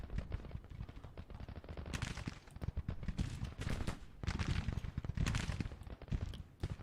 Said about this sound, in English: now we're getting flanking fire on that Union brigade under Irwin